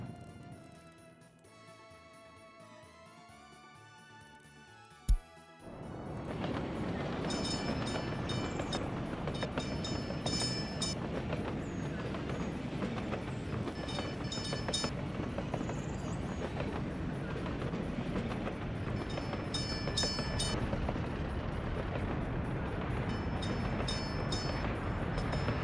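A locomotive sets off in the Workers & Resources: Soviet Republic game, with a sudden loud burst of steady broadband rumble and rattling rail noise that continues unbroken after a quieter musical stretch, no voices heard.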